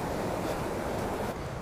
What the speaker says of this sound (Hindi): कितना तेज़ बहाव है और शोर भी बहुत ज़्यादा तेज़ है इस नदी का